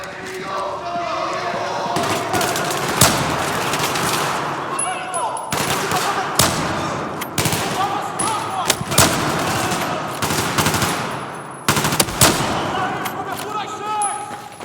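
Sniper rifle shots and other gunfire in the Battlefield 4 video game, with several sharp, loud cracks spaced a few seconds apart over busy game noise, while players talk throughout.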